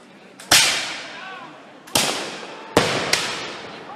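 Muskets fire at a historical reenactment: four sharp, loud reports come at uneven intervals, each followed by a decaying echo, with faint voices in between.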